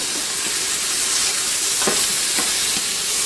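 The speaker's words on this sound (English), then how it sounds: "So I'm sauteing mushrooms." Mushrooms sautéing in bacon grease in a pan make a steady, close sizzle with a few soft scrapes of stirring, and no one speaks.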